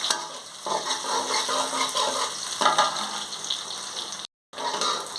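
Dried chilies, garlic and onion fry in a pan for okra bhaji, a close, continuous sizzle and crackle with bursts of stirring, broken once by a brief gap.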